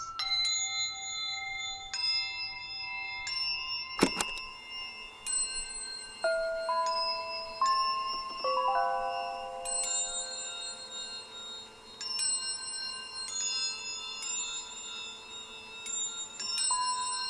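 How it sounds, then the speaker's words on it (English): Wind chimes in the video game Season: A Letter to the Future ring out as scattered bright metallic tones, overlapping and sustaining, with one sharper struck note partway through, alone without any voices. "let me record these wind chimes"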